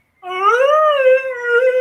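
A person's voice imitating a dog howling, one loud, close, drawn-out rising and wavering howl heard alone.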